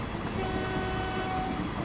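A train passes in the Transport Fever 2 video game, a continuous rumbling roll of wheels and carriages with a faint sustained horn-like tone above it, steady and close.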